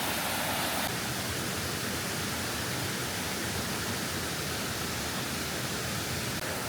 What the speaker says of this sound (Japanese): もう目の前が川というか、ちょっとした滝になってますね